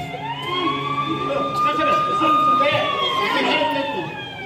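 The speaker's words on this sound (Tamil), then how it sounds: "ஆம்புலன்ஸ் வருது." A loud ambulance siren wails steadily nearby during a stage play performance, its tone sliding slowly, while people talk over it.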